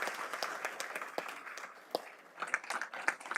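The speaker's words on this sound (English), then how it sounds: "we'll give a quick round of applause." A quick round of applause from the audience at a school board of education meeting, scattered hand claps at moderate distance that pick up slightly toward the end, fairly quiet in the room.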